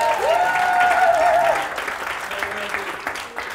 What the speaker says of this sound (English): give Jay a round of applause